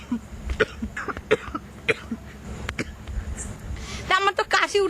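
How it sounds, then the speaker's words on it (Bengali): A person coughs repeatedly in short, sharp bursts spread across the moment, close and fairly loud, followed by a few quick voiced sounds at the end. "আমার তো কাশি উঠে যাচ্ছে।"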